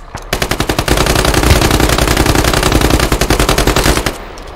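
Sustained automatic gunfire in the military shooter game Squad, a rapid, loud, continuous burst of shots lasting several seconds before stopping abruptly.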